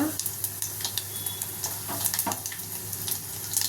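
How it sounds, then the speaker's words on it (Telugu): Mustard seeds, cumin, dried red chillies and garlic cloves frying in hot oil in a home kitchen, a steady bright sizzle with scattered crackles and pops throughout. "నూనె వేడయ్యాక ఒక స్పూను ఆవాల జీలకర్ర అలాగే రెండు ఎండుమిరపకాయలు రెండు ఎల్లిపాయ రెబ్బలు"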